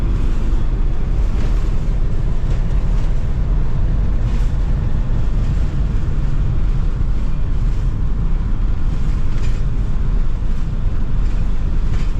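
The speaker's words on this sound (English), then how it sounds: "very windy and it's very sandy." Strong wind roars steadily across sandy Sahara desert dunes and buffets the microphone with a constant low rumble and hiss for the whole stretch. There are no voices.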